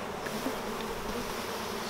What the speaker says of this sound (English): So lots and lots of bees inside this hive, and outside, as you can see.